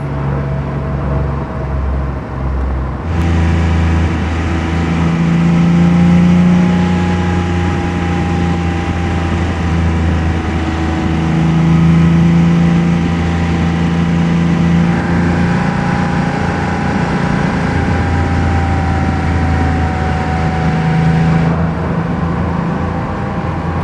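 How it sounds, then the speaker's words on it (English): A Porsche 911 Targa GTS engine drones steadily while driving, with a low rumbling hum that swells and eases slightly as speed changes, heard from inside the car. "every Porsche has its own sound too"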